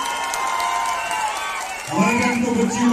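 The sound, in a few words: audience applause for parents at Manali winter carnival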